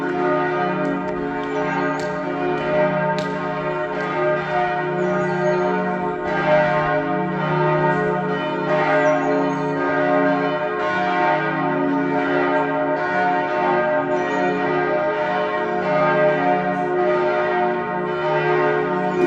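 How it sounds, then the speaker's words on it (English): Church bells at the Church of the Holy Sepulchre ring continuously, a dense, loud, overlapping peal with steady rhythmic strikes and no voices. "let's listen to the bells."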